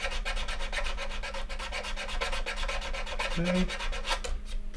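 A part from an Airfix 1/72 scale Vulcan model kit is scraped very lightly, giving fast, steady rasping strokes close up, with one brief word spoken near the end.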